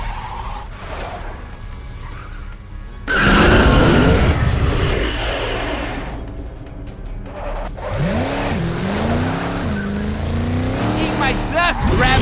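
A race car in the Wingo video game fires a powerful Chrome speed boost: a loud surging whoosh and engine roar bursting in abruptly, followed by rising, sweeping engine pitch and continued game effects, with a voice partly talking over it.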